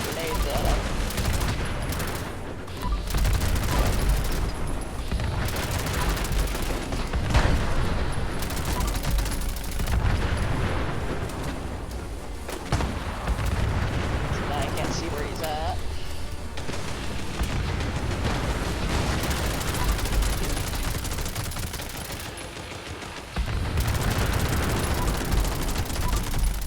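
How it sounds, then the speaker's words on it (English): Grenade explosions and gunfire from the Fallout 76 Invaders from Beyond event fill the space in dense, continuous volleys of booms and rapid shots, loud and sustained with only brief lulls, with faint voices underneath. "somebody's just throwing a shit ton of grenades at him"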